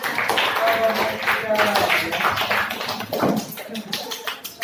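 Classroom applause for a student group during a teaching practice lesson, a busy patter of hands clapping throughout, mixed with voices talking over it.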